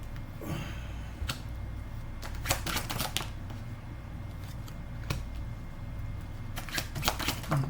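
Tarot cards shuffled by hand: a steady papery riffle and flutter with bursts of crisp card slaps, close and quiet, with no talking.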